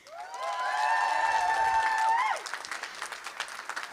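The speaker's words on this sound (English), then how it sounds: "So a big round of applause, please." Applause and cheering from guests at a wedding reception, a dense burst of clapping with raised voices that fades after about two seconds into scattered claps.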